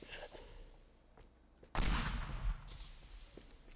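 A pipe bomb blows up in the destruction game Teardown: one sudden, loud, deep blast that rumbles for under a second over low background noise, then fades into a lighter, hissing tail.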